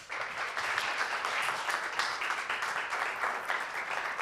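An audience at an investment forum on quantum technology applauds steadily for several seconds, a dense, even patter of clapping heard at a moderate distance with no voices over it.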